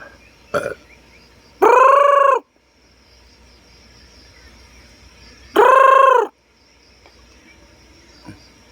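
A labuyo, a jungle fowl chicken, gives two loud, drawn-out throaty calls several seconds apart, close by, with faint outdoor ambience and small knocks between them.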